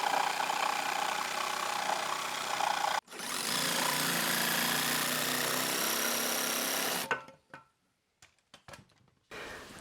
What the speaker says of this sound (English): Theo's got the jigsaw, let's cut it